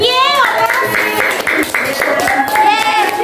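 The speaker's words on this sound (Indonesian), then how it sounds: "Ya, tepuk tangan." Classmates clap for a student group after its presentation in a school lesson, a brief burst of hand claps mixed with children's voices and a teacher talking over it.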